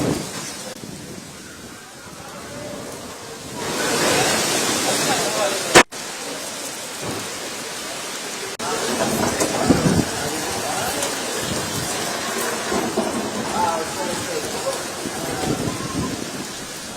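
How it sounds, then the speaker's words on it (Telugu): Rain falls steadily in Vijayawada during a sudden weather change, a broad hiss of drops on surfaces with a sharp crack partway through and louder, gustier rain afterward, distant and wash-like rather than close. "చిరుజల్లులు కురుస్తున్నాయి"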